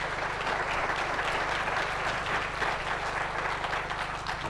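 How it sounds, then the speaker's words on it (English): Dense, sustained clapping from a large audience fills the whole stretch, steady and enthusiastic with no voices breaking through. "That's a nice round of applause."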